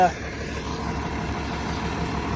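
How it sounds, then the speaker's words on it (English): A low, steady tractor engine rumble drones in the background, running nearby in a field, with faint outdoor noise over it. "you can hear the tractor running in the background."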